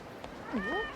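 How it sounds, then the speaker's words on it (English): A cat in a video game gives a short rising-and-falling meow, close and clear over faint background ambience. "Is that a cat?"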